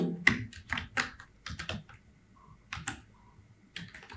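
Close, crisp keystrokes on a computer keyboard while entering data into a Microsoft Excel spreadsheet, irregular bursts of clicks with brief pauses between them.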